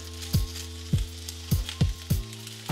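Food frying in oil heating in a pan, a steady sizzle broken by five or six thumping knocks at a regular rhythm, close and fairly loud with no voices.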